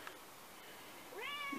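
A cat meows once, a clear rising-then-falling call near the end after a quiet stretch, fairly close and moderately loud over faint room background.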